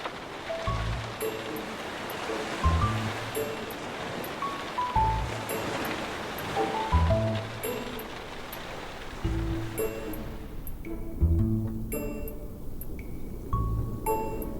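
Rain in the video game LADS - To Our Yesterday makes a steady hiss under soft game music, then fades away near the end as the downpour stops.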